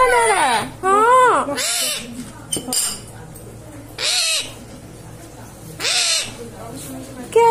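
A pet parrot makes odd imitative calls: rising and falling whistles, hoarse hoot-like and cawing bursts in several separate loud phrases, close up, with a person talking between them.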